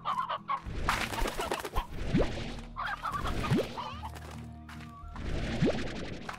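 Chickens in the farming game Slime Rancher cluck repeatedly in short, bright bursts, close and fairly loud, mixed with game sound effects and rising whoosh tones.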